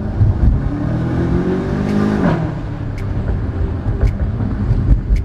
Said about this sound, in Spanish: si uno quiere despertar a todo el vecindario cuando lo prende, cuando lo acelera, lo va a lograr